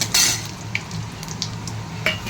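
Garlic hitting very hot oil, with black cumin to follow, gives a sharp sizzle burst, then a softer crackle and a few light clinks of a utensil against the pan.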